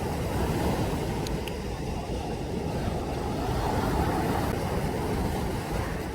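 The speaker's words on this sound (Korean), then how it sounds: "파도가 조금 거세지니까" Ocean waves roll onto the beach at Gangneung, heard as a steady, loud broadband roar and wash that continues without a break, with no voices over it.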